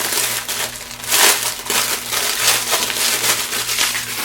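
Decorative mesh rolls being handled for a Dollar Tree July 4th wreath, a continuous close crinkling and rustling with no talk over a low steady hum.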